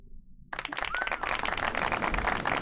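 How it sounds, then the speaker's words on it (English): A round of applause erupts during a 2024 Leaf Metal football card case break, starting abruptly after a brief quiet moment and continuing as thick, steady clapping to the end. "Can we get a round of applause?"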